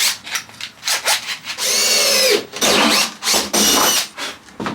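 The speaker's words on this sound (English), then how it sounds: "I'm actually going to drill a hole." A power drill bores a hole through a VW Caddy van bulkhead panel, with several short whining bursts of drilling separated by brief pauses and handling rubs, close and loud, with no talking.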